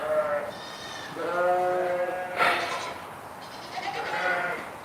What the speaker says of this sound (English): sheep are in their new pen